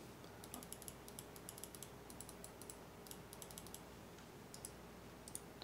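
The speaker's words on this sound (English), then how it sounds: "They have a nice satisfying click to them." Button clicks from a Glorious Model O gaming mouse, crisp faint clicks in irregular quick bursts with short pauses, close and quiet with no talking.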